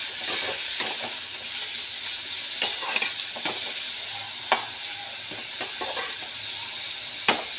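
Sliced bitter gourd fries in hot oil in a pan, a steady close sizzle broken by sharp scrapes and knocks as it is stirred every second or so.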